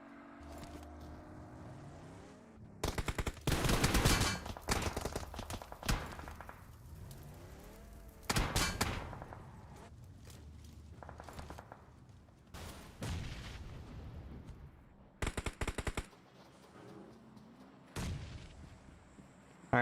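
Bursts of gunfire from a DBS shotgun in a competitive video game match, several loud blasts at irregular intervals with engine-like rumble and game effects between them, no voices.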